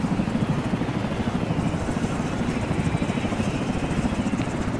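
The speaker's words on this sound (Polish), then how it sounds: "Na śmigłowiec słychać." Helicopter in the military shooter Arma 3, a steady droning rotor hum with a low rhythmic chop that holds at an even loudness throughout, close by and alone with no voices.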